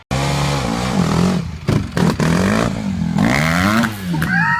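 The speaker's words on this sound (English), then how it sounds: "So I found some video of Doug trying to ride a dirt bike." A dirt bike engine revs hard and close, its pitch rising and falling through repeated throttle bursts with a rattling, clattering edge.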